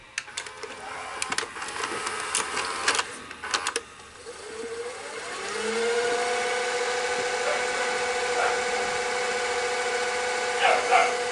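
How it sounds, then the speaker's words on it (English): A Sony VHS VCR starts with a few mechanical clicks and clunks, then spins its tape in high-speed rewind with a steady whirring whine whose pitch climbs slightly as the reels speed up, close and moderately loud. "So I'm gonna hit high speed rewind."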